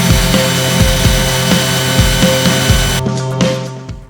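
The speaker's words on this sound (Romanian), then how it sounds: "am să-l tai pe un circular do-it-yourself, luând toate măsurile de siguranță" A DIY circular saw cutting sheet material, giving a loud, steady motor whine with regular rhythmic thumps, then cutting out abruptly near the end as the motor winds down, with no talking.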